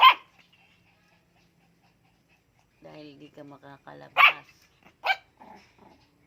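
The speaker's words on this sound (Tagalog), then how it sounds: "Kahol ka ng kahol." A young miniature puppy, kept in its den, gives sharp, close yaps: one at the start and two more near the end. A person talks to it in the middle.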